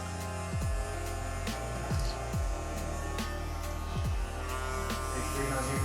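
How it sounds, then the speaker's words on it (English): A Babyliss FXONE or Wahl Vapor cordless hair clipper motor hums steadily while its pitch repeatedly dips and climbs, about six swoops in a few seconds, close and alone. "you can kind of hear this motor going up and down"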